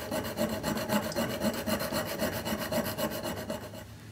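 A metal rod is sharpened with a file in steady, rhythmic rasping strokes, close and alone.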